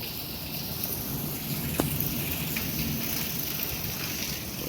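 Summer rain and windstorm pour in a constant broad hiss, with one brief sharp crack of lightning partway through and no voices.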